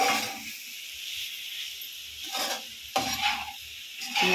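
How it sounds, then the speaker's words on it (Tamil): Masala sautéing in a pan for a potato and green peas gravy: a soft sizzle broken by several bursts of spoon scraping and stirring, close and clear. "இப்போ இந்த மசாலாவை எப்பவுமே சொல்கிற மாதிரி நல்லா அது இந்த வாசனை போகிற அளவுக்கு வதக்கிடலாங்க"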